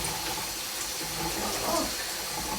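Tap water runs steadily while an item is rinsed out at a sink, a continuous close rushing that stays fairly even throughout, with no voices over it.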